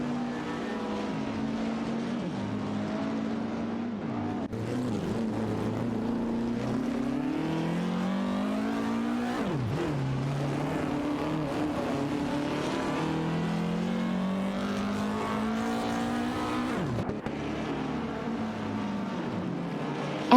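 Engines of several race cars in an AI racing video game drone continuously, their pitches sweeping up and down through gear shifts as the cars race close together, steady and loud with no talking.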